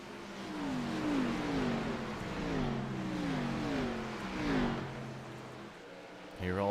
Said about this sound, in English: Hear all the sights and sounds here of the race cars.